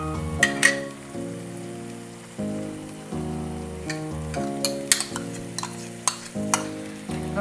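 Beef stir-frying with sauce for Chinese beef noodles: crackling sizzle close in the pan, with repeated spatula scrapes and sharp metal clinks at an uneven stirring rhythm, and no voices.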